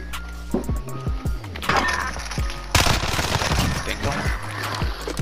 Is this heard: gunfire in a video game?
yes